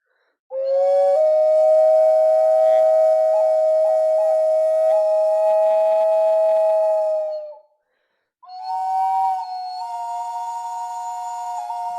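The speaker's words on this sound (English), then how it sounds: "It's 2 flutes in one." Round double flute made from organic materials, with finger holes for changing notes: a breathy, piercing whistle-like tone held for several seconds with small pitch bends, a short pause, then a second sustained note, alone and close.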